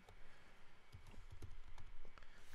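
Typing on a computer keyboard while programming: a quiet, irregular run of soft key clicks with a few sharper taps, close by, in a calm room with no talking.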